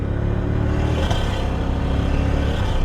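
A turbocharged 3UZ V8 in a Lexus GS pulls hard through a sequential gearbox, its deep, loud engine drone rising steadily with a brief shift blip partway through, close and continuous.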